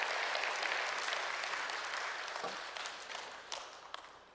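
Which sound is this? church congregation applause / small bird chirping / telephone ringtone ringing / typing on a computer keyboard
church congregation applause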